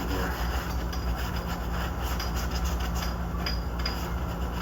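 Towel wiped with wax and grease remover solvent across the bottom of a metal intake manifold from a Jeep CJ, a steady close rubbing swish outdoors in a driveway, continuous with no talk.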